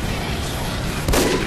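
In a multiplayer shooter video game, a single loud gunshot booms near the end of a brief burst of dense, loud game noise.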